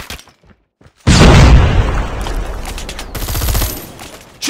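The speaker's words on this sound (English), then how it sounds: "Flashbang!" A flashbang grenade bursts in Call of Duty Mobile ranked Search and Destroy, a sudden loud blast after a near-silent moment, followed by a dense rattle of rapid gunfire that fades slightly and then swells again.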